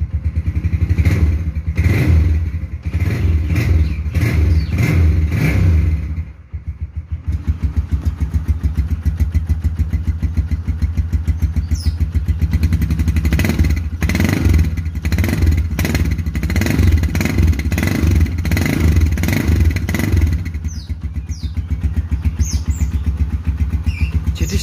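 A Yamaha Scorpio Z motorcycle engine, loud and close, rises through several sharp revs and drops back to a rough, steady idle between blips. No one speaks.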